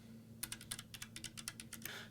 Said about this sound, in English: we're going to do a little bit of a test here just to see which keyboard really feels the best for typing